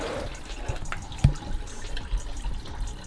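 Coolant drains out of a removed Subaru radiator into a bin: a near, watery splashing pour with a single sharp thump partway through.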